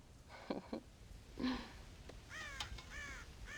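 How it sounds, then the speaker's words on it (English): Crows cawing on a farm in the Red Dead Redemption video game, several short harsh caws in two bursts followed by a run of rising, raspy calls, moderately near over a quiet outdoor ambience. "God damn crows!"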